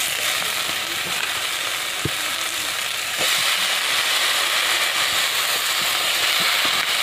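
Green chilies and banana stem fry in a pan with a continuous loud sizzle, broken by a couple of sharp clicks and a slight rise in intensity partway through.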